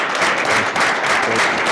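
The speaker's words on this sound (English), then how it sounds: "We should all give him a clap." An audience at a city council meeting applauding, a short burst of dense, steady clapping filling the room.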